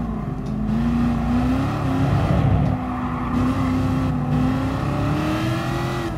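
A Corvette race car in Gran Turismo Sport drones steadily with a loud, continuous engine note that rises and falls slightly as it revs, alone without talk.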